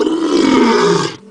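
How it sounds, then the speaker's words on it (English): A lion lets out a single loud, deep roaring growl up close, rising and swelling for about a second before trailing off. "While sound of lion is growl."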